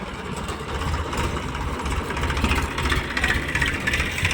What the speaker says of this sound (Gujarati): તો ભાઈ બે ટ્રેક્ટર આવી ગયા વાહે, જુઓ